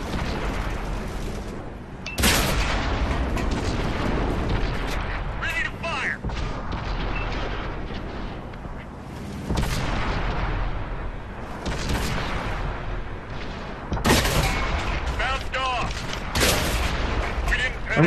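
Tank cannons boom in a tank battle video game, with heavy shots and explosions landing in repeated bursts over continuous rumbling combat noise, loud and close, with someone talking over parts of it.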